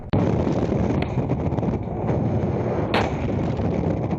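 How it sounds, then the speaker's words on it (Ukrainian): Heavy booming blasts of enemy artillery shells roll over constant rumbling noise, with a sharp crack near the start and another around three seconds, loud and distant-sounding. "Під вибухи ворожих снарядів."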